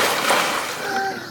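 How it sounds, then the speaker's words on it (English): A person jumps into open water, making a loud close splash that washes out and fades into bubbling and sloshing, with a brief tonal sound near the end. "I am going to jump in the water."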